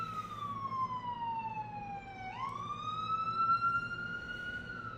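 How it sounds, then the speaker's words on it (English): A loud wailing siren sweeps down in pitch, then jumps and rises again over a low background rumble, continuous and fairly close. "There's going to be a long, protracted, ear-piercing siren in every single video that I make"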